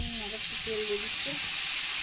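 Hot oil sizzles steadily in a pan as a rural Bengali fig and ghatkol curry cooks, a dense, unbroken hiss with faint low tones underneath.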